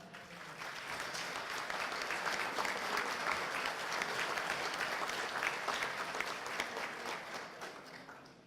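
A conference audience in a state congress chamber claps steadily for the presidium, a dense, even applause that holds at full strength for several seconds before easing off slightly at the end.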